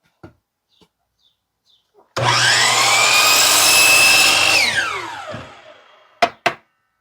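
A power saw cuts through a scrap wood board in a loud, close burst of about two and a half seconds that winds down at the end, with a few light knocks before it and two sharp clacks after.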